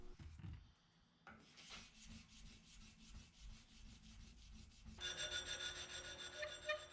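Sandpaper is rubbed by hand along a forged steel knife blade in a linear pattern, giving steady close scratchy strokes that turn brighter and harsher in the final seconds, with no talking.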